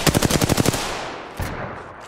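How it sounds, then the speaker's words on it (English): In the video game Apex Legends, a rapid automatic burst of about ten shots rattles out, followed by a short pause and one more single shot fading into echo. "Listen up, I'm getting shot at."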